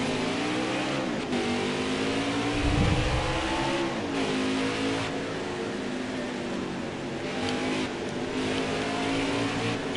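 Race trucks accelerate together at the green-flag start, a loud, steady multi-engine roar with rising revs and gear changes, heard close from the cockpit over about ten seconds.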